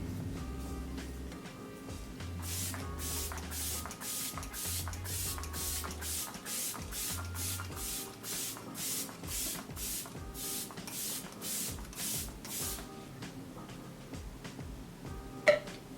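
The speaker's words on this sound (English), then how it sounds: "I'm gonna go in with the Lancome Fix It Forget It setting spray." Lancome Fix It Forget It setting spray is pumped in a quick series of about fifteen short, close hissing bursts in a steady rhythm, with soft handling noises before and after.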